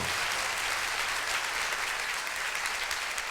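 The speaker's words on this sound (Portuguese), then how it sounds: "Exalte ao Senhor nessa noite com um forte aplauso" A church congregation at a Pentecost service applauds loudly, a dense, steady wash of clapping that fills the whole moment without pause.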